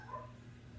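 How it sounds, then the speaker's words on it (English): Dogs bark in the background of a quiet indoor room, a brief muffled outburst that carries on low and steady. "My dogs are going crazy."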